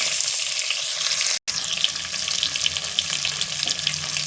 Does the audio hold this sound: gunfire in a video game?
no